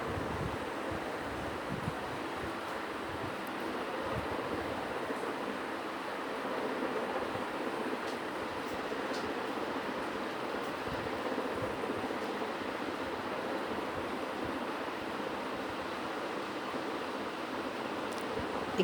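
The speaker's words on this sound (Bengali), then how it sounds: "এই তো এখন আদা রসুনগুলো ব্লেন্ডে দিয়ে দিচ্ছি" An electric blender grinds ginger and garlic with a little added water, giving a steady, continuous whirring roar that holds an even level throughout, with no voices.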